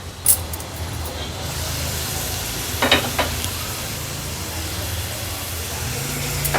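A large chopped onion fries in hot oil, giving a steady, close sizzling hiss throughout, broken by a couple of brief clinks from stirring.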